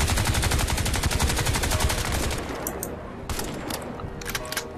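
Rapid volleys of gunfire from a grenade launcher in the Crysis 2 video game, a dense loud burst of repeated shots for about two seconds, then scattered sharper blasts and lighter shots following.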